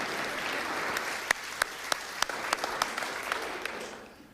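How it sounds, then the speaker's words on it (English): An audience at a talk on U.S. relations with the Islamic world applauds, a steady bed of clapping with a few sharp nearby claps standing out, tapering off at the end. "I just want to have a round of applause."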